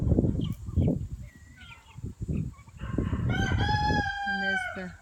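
A young rooster in a backyard flock with turkeys crows once, loud and close, a long drawn-out call that follows a stretch of low clucking and shuffling nearby.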